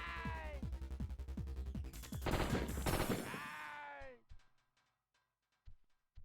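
Assault rifle gunfire in a PS1 video game, rapid repeated shots over a loud noisy stretch with swooping tonal effects, then a fade to a few scattered sharp cracks near the end; a voice talks over part of it.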